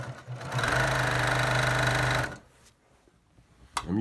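Sewing machine stitching in the ditch on a t-shirt quilt, a loud, steady mechanical whir running for about two seconds before stopping, followed by faint handling noises.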